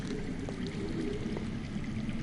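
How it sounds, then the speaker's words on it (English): Steady rushing, gurgling underground water in a video game flows continuously beneath a low ambient rumble, muffled as if heard from a distance or through ground. "That's water. I hear water. From underground."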